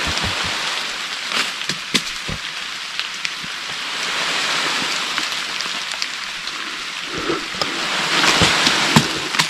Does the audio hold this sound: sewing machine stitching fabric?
no